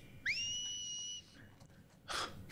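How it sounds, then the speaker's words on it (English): A character in the video game The Last of Us Part II whistles a clear two-note whistle, rising then held steady for about a second, followed by faint rustling and a short burst of noise. "I forgot that she does her whistling."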